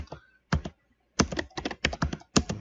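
Quick bursts of typing on a computer keyboard, clusters of crisp close key clicks separated by short pauses, with no other sound around them.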